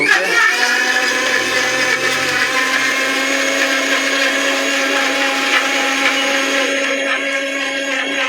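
A 1200-watt blender grinds ginger and garlic, a loud steady whine from start to finish, close to the listener with a constant pitch.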